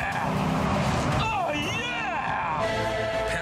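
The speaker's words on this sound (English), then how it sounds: "I love the sound of a V8. But I challenge anyone to hear this and not go, oh yeah!" The Redback Spyder supercar's 5.7-litre V8 roars loudly and close, its pitch sweeping up and down as it revs, with a voice briefly heard over the engine.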